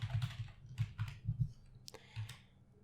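Rapid keystrokes on a computer keyboard while Python code is being typed, coming in short clustered bursts of clicks with brief pauses between them, close and clear with no voice.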